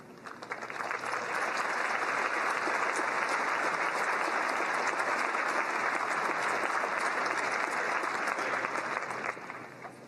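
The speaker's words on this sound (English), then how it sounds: "They're with us today where we can give you a round of applause." Graduation ceremony audience giving faculty a round of applause, steady dense clapping from a large crowd filling the whole stretch, fairly distant and even, then tapering near the end.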